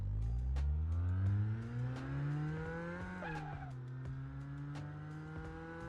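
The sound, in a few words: Myvi car engine revving in a driving video game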